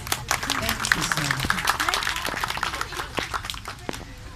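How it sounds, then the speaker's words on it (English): A round of applause for Sir Francis Aquino at a music group event, with scattered, moderately quiet clapping and people talking over it. "A round of applause, please."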